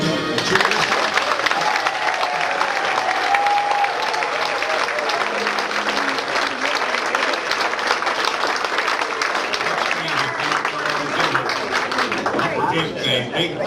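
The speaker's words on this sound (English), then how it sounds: "It's a big clap." Sustained audience applause and clapping fills a variety show venue after a song, a dense steady crowd of hands lasting throughout with a voice briefly heard over it.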